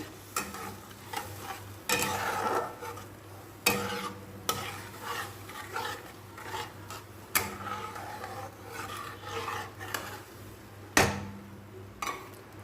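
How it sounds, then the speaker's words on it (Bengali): A spiced pointed gourd and shrimp curry is stirred and sautéed in a pan, with repeated close scraping strokes over a soft sizzle, the strokes coming in irregular bursts. "এবার কষাবো"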